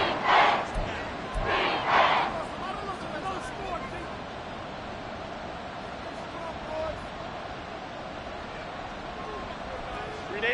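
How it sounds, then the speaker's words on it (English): A loud football stadium crowd roars during an NFL-style game, with a few sharp cheers at the start before settling into a sustained wash of noise beneath a commentator's voice. "This crowd turning up the decibel level"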